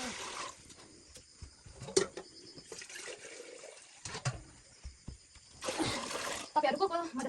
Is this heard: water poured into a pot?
yes